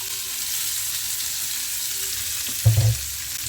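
Bitter gourd (karela) frying in a pan over a medium-high flame: a steady soft sizzle throughout, with a short burst of louder stirring clatter near the end, and no talking.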